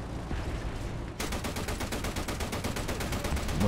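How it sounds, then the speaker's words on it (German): Rapid bursts of gunfire in War Thunder tank combat with the Italian AS42, a steady dense rattle of shots filling the whole clip with no talking. "Diese kurzen Feuerstöße nerven auch"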